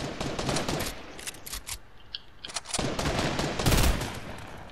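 Gunfire in the video game Fortnite, rapid bursts of automatic shots in dense volleys with a short lull midway, then heavier sustained fire, loud and up front.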